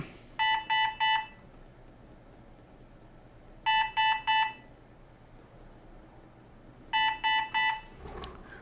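A Centrimag ECMO console sounds its alarm for a disconnected flow sensor: three sharp, evenly spaced beeps in a group, repeating roughly every three seconds over a quiet room hum.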